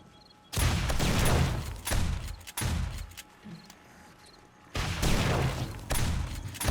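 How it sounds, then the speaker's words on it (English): Shotgun fire against a zombie horde in the video game 7 Days to Die, loud overlapping blasts in several dense bursts separated by brief lulls. "Still seems like the shotguns are doing some work"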